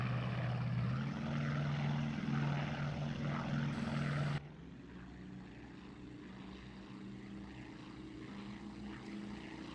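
F4U Corsair propeller aircraft engine in a flight game, a loud steady drone with a low rumbling tone that drops sharply in level about halfway through and carries on quieter.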